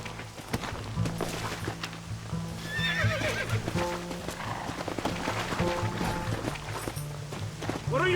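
Horse hooves clip-clop in the Red Dead Redemption video game, a steady galloping rhythm with a whinny mixed in, under overlapping game voices and background sound.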